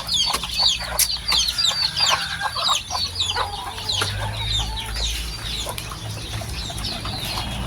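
A flock of gamefowl of Gilmore Hatch and Henny bloodlines clucks and chatters nearby, with overlapping busy calls, a few wing flaps and a distant crow mixed in.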